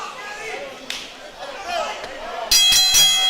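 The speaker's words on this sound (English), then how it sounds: "Referee calls for the bell." A ring bell at a wrestling show in Miami, Florida, clangs several times in quick succession near the end, loud and ringing, after a stretch of crowd chatter and voices.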